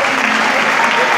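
A loud, close burst of hand-clapping from the audience at a live murga performance in Uruguay, dense and continuous throughout with no pause.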